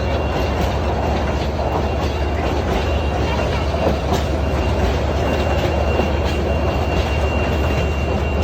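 A train rumbles steadily and loudly throughout at the Moghbazar rail crossing in Dhaka, with a dense, continuous roar and faint rattling from the cars.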